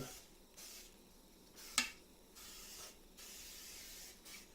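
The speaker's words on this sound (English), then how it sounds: "Gonna get a little bit of little pan spray" Several short hissing bursts of aerosol cooking spray into a cake pan, close and faint, separated by brief pauses, with one sharp click midway.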